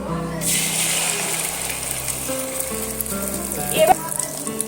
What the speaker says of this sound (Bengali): যে ডিমটা আমি ফাটিয়ে রেখেছিলাম এবার আমি অল্প অল্প করে দিয়ে আর ভেজে নেব